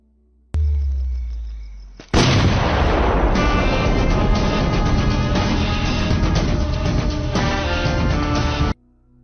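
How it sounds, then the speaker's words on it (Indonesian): A loud explosive blast sounds from a film scene where a man's hand is blown up. A booming impact kicks off a sustained roar of rumbling, crackling noise that persists at high intensity for several seconds before cutting off abruptly. "David lalu meledakkan tangan Satyan agar Satyan tidak bisa menulis berita-berita lagi"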